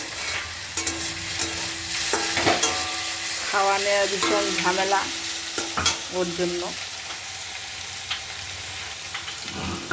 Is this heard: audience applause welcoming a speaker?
no